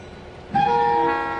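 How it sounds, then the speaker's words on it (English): Steam locomotive horn in the Trainz 2019 railway game, one sustained tonal blast starting abruptly and holding steady for nearly a second, loud and close over low rumble. "Giving a little blast on the horn."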